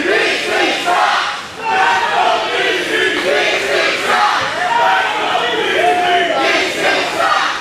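A packed crowd at an independent wrestling event roars and cheers continuously, loud and dense throughout, with shouts and scattered voices rising out of the steady din and no clear speech.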